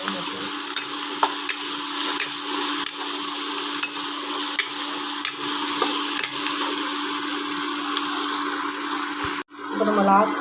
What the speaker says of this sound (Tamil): இப்போதான் ஈஸியாக தக்காளி வதக்கணும்.